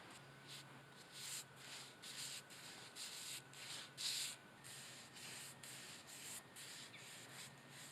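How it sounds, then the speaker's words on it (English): A wooden mailbox post being filed and sanded by hand, giving steady, repeated rubbing strokes in a close, moderately quiet rhythm with no talking. "we can begin filing and sanding it down to get it primed for"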